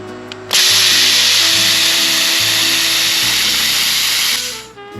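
A Hynade plasma cutter slices through a 1/8-inch, roughly 10-gauge steel plate clamped to a bench: a loud, close, steady high hiss that starts abruptly, holds for about four seconds and then cuts off.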